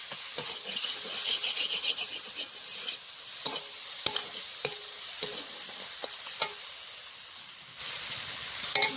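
Spice paste with onion and garlic frying in oil for a puti fish curry, a constant close hiss and sizzle with occasional sharp clicks and scrapes of a stirring spoon.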